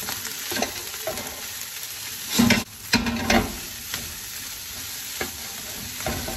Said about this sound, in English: I'm gonna go ahead and add my green onion.